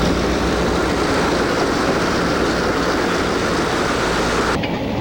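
Erie Lackawanna's westbound Phoebe Snow passenger train pulling out of Hoboken, a loud, dense rumble of wheels and cars rolling steadily close by with no pause.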